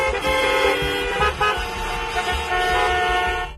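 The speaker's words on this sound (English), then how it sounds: "People will honk at a red light" Car horns honking in busy Indian street traffic, several overlapping sustained blasts of varying pitch layered over engine rumble, loud and continuous with a brief dip midway.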